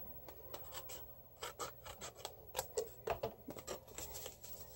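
Paper trimmed close by for a concertina-fold card, a quiet series of rapid rasping cuts and rubbing strokes in short irregular bursts.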